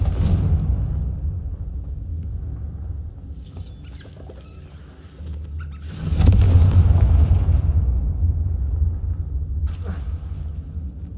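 In the Hogwarts Legacy video game, a Confringo spell sets off a fiery explosion, a deep rumbling blast that swells midway and lingers amid crackling game effects, after quieter low rumble and a faint voice.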